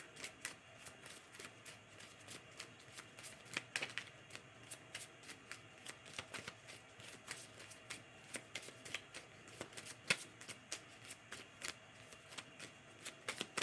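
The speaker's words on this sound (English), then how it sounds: "Let's grab a few clue cards." Clue cards from a board game handled and shuffled, producing a steady run of soft, quick papery flicks and taps, close and quiet, without speech.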